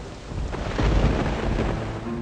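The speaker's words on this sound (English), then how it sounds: "we get to experience this wonderful stormy atmosphere" A rumbling thunderstorm in the game Rule of Rose, a dense wash of rain with a low rolling thunder swell, loud and steady throughout the short stretch.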